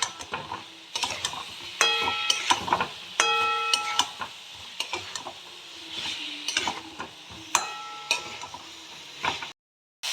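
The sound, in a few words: fried cauliflower and potato stir-fried with spices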